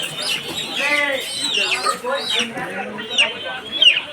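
Caged chickens at a rural market in Madaripur cluck and chirp in a busy, overlapping chorus, mixed with nearby human chatter throughout.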